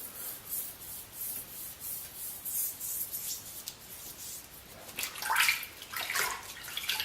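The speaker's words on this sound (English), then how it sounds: "just very lightly, just using the weight of the brush, almost. Just go up and down." A brush is drawn lightly up and down over a gravity water filter as it is turned, giving a soft, steady rubbing and scrubbing sound that grows slightly louder and wetter toward the end.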